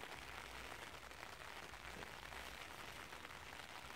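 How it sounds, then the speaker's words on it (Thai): Faint, steady patter of rain falling, a soft continuous hiss with no distinct drops or voices. "ฝนกำลังตกดีเลย"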